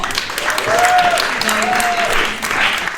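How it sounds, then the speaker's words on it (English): Live studio audience applauding at a community conversation event, a steady wash of clapping over about three seconds, fairly close and loud, with a faint tonal whistle-like sound and some background voices underneath. "so a big round of applause for you all."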